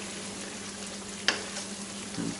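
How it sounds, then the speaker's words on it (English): A pan is deglazed with Marsala wine for chicken Marsala, giving a quiet, steady sizzle with one sharp scrape of a utensil across the pan bottom partway through. "Basically deglaze the bottom of that pan."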